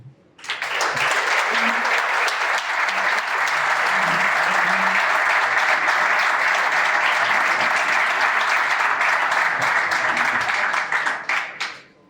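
Guests at a bullfighting colloquium honouring El Yiyo are applauded as they receive a commemorative tile; a full room claps steadily for about ten seconds, starting abruptly and tapering off at the end.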